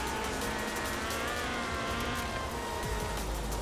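A Ford RS 1800 rally car drives steadily in Forza Horizon 4, its engine a continuous drone with a rising harmonic whine, loud and close throughout with no pauses.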